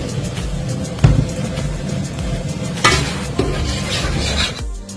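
Rice frying in a pot with green chilli, cinnamon leaf and cardamom, a dense continuous sizzle with a few scraping stirs and metal knocks, close, without talk.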